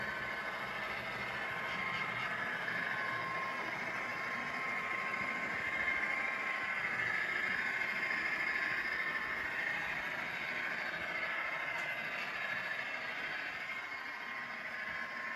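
Steady whirring rumble of a Bachmann model train pulling a 380-ton Schnabel car around a layout, running continuously, moderately loud, with no talking.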